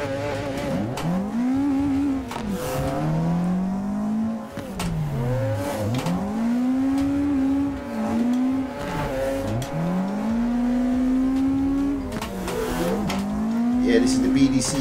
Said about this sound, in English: I have never used this car on Brooklyn Park, so we'll have to see how it drifts